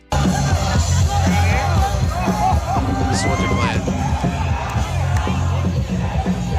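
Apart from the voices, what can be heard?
Mariners fans cheering in the streets outside T-Mobile Park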